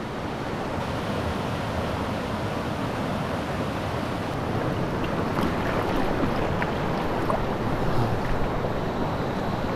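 Strong, fast river current rushing at a camp site river resort in Doña Remedios Trinidad, Bulacan, a steady broadband wash of water with wind buffeting the microphone, continuous throughout.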